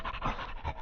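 A dog named Nugget pants rapidly and steadily at close range in an old-time radio drama, a continuous breathy rhythm with no voices over it.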